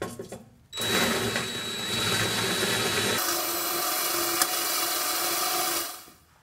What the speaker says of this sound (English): we need to countersink these holes